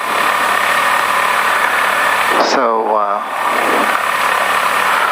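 The twin engines of a Diamond DA42 aircraft idle steadily while warming up, holding a constant drone. A voice speaks briefly over the engines, along with a short rising tonal sweep.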